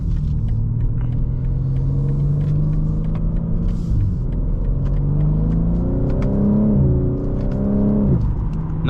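A powerful 2024 BMW M3 Competition xDrive engine with a Valvetronic mid-pipe rumbles loudly and steadily, its pitch climbing twice as it accelerates, with a deep burbling exhaust note and no talking.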